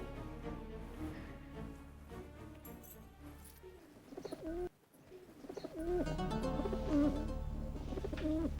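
A pigeon coos in low, rolling phrases against a steady background hum, with a brief quiet gap partway through.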